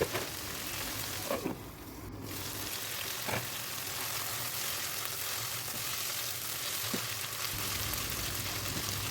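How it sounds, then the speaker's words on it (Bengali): Meat fried hard in a pan after boiling, a steady broadband sizzle running throughout with a few faint scrapes of stirring and no talk. "মাংস সিদ্ধ করে নেওয়ার পরে একটু কড়া ভাজি দিয়ে নিলাম"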